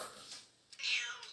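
A cat gives two short, close meows, a thin first call and then a louder, brighter second one, in a quiet room.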